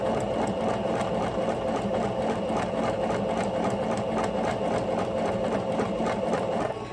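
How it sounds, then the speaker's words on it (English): A sewing machine runs steadily, stitching straight seams through tulle for tutu socks, with a fast continuous whirring needle rhythm, close and loud throughout and nobody speaking. "backstitch the seal and sew your straight line"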